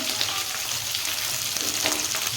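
Green chillies and capsicum sizzle in hot oil in a pan while making shavige bath, a close, steady frying crackle with occasional stirring scrapes and no talk.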